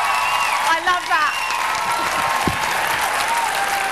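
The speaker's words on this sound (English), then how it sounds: "Peter, they were cheering" An audience cheers and applauds after a rock performance, with dense, loud clapping throughout and whoops and shouted voices rising over it early on.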